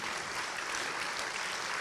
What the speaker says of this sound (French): Je crois qu'on peut l'applaudir à nouveau.